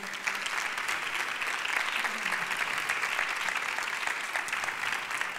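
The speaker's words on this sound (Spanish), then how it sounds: "Un fuerte aplauso." Sustained applause from an audience at a talk by a sneaker shop CEO, a continuous even patter of many hands held at a moderate, slightly distant level throughout.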